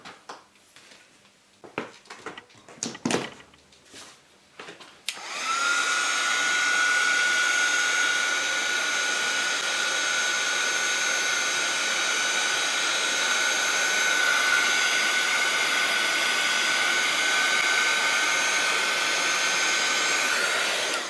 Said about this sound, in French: je vais sécher. Heat gun.